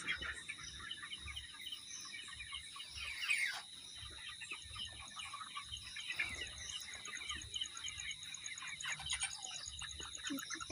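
Broiler chickens being stirred up and scattered on a poultry farm, a faint continuous chorus of chirping and clucking birds with insect-like buzzing, fairly distant and low, with a slight swell in activity partway through.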